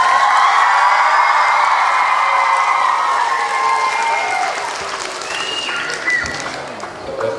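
Sustained audience applause at a 2008 children's classical dance competition, dense steady clapping with some cheering throughout, loud and close, gradually easing slightly toward the end.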